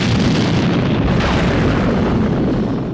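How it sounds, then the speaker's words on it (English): A big explosion from the 1967 James Bond film You Only Live Twice roars as a dense, continuous rumbling blast filling the whole clip, loud and sustained with no talk. "The explosion on top is excellent"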